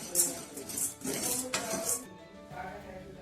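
Roasted sabudana scraped out of a metal pan with a spoon, giving repeated scraping and clinking of utensil against metal, moderately close, with no talk.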